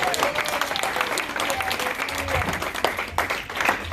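A church congregation applauding during worship, a full, steady roomful of clapping with voices mixed in beneath it.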